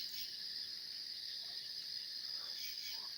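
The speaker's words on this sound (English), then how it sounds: "crickets." Crickets at a nature reserve at night keep up a continuous, high-pitched trilling chorus at a steady moderate level, with no other clear sounds.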